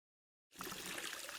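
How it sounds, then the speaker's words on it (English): Cold water starts pouring abruptly into a red mop bucket on a double-bucket cleaning trolley, then runs as a steady, quiet splashing rush with no pauses. "fill the red bucket to 1/3 with cold water"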